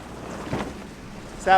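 A sailboat motor sailing in light wind on open water between the Gold Coast and Brisbane, giving a steady low engine and water rush with wind buffeting the microphone, and a louder gust near the end.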